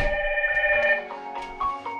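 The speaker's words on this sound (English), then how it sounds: "my phone is also ringing," A phone rings for an incoming Hikvision intercom call, a steady electronic ringtone with layered tones that sounds clearly through the short stretch.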